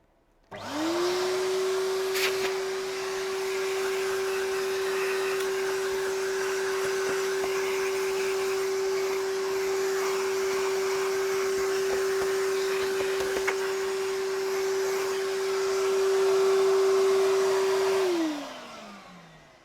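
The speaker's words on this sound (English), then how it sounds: "let's vac the dust off" A Hoover Junior upright vacuum cleaner runs while dust is sucked off it, spinning up quickly to a loud, steady motor whine with faint handling bumps, then winding down at the end.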